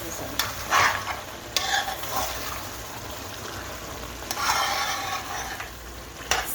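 Squash being stirred in a frying pan, with bursts of scraping and sizzling at intervals over a steady low frying hiss, close by, no talk.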